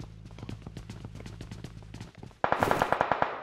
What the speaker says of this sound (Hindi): देख फायर कर रहे हैं।